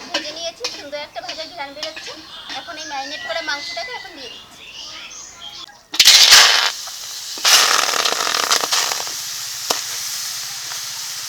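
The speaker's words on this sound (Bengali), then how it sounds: "শুকনো খোলায় কিছু তেজপাতা কিছু গোটা জিরে ও কিছু গোটা গরম মশলা শুকনো খোলায় ভেজে নেব" Bay leaves, whole cumin and whole garam masala dry roast in a pan without oil, a loud crackling hiss with stirring scrapes taking over midway after a stretch of talking.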